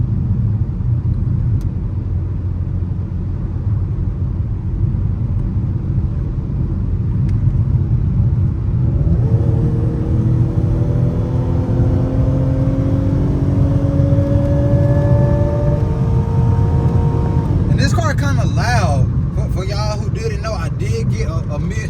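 Dodge Challenger SXT exhaust with a mid muffler delete, a steady loud low rumble while driving that rises in pitch as the car accelerates, with a brief burst of extra noise near the end.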